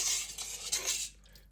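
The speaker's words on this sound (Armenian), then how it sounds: "խառնենք, որ սոդան ամբողջությամբ լուծվի ջրի մեջ" A utensil stirs two tablespoons of baking soda into two litres of water, producing close, brisk swishing and light scraping against the container for about a second before falling quiet, with no voices.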